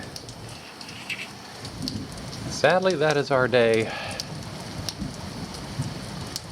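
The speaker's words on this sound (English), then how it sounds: "It's been raining since the middle of the night." Steady rain falls outdoors at a lakeside outpost cabin, an even hiss of drops spread across the whole scene, while a person speaks briefly over it.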